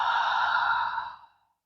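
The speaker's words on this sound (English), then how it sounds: "And exhale." A single deep, breathy exhale during a yoga breathing exercise, close and clear, sustained for about a second before fading into silence.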